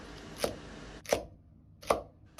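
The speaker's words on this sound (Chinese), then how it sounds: "先把西芹切成細條， 再改刀切成段" Kitchen knife chopping celery into pieces on a cutting board, three crisp, separate knocks about half a second to a second apart, close and clear in a quiet room.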